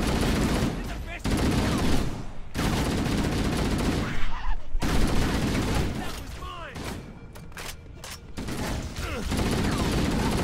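Sustained gunfire in the video game Halo: Combat Evolved, with dense continuous volleys of rapid shots and brief pauses between bursts, loud and close, mixed with game sounds.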